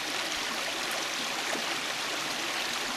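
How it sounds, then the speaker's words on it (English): A steady, close rush of water from a stream flowing beside a waterfall, with a constant broadband wash and no pauses. "Stream is right here."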